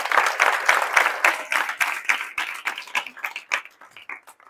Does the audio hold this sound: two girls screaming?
no